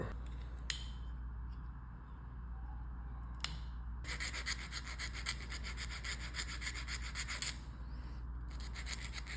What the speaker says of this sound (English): I'm going to cut this out a little bit so there's more of a hook shape in that thorn